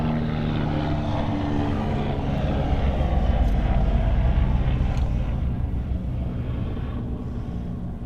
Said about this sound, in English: our next heavy arrival here, just about to arrive on runway 34 left, is the Korean Air 777-300 KE401 arriving in from Seoul